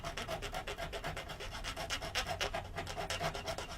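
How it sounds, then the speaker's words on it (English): A treadle-driven fret saw, a replica of a period Chippendale-era tool, cutting through white veneer in scallop shapes: rapid, even rasping strokes at a steady rhythm of about four per second, close and continuous. "This is a saw that we call a treadle saw"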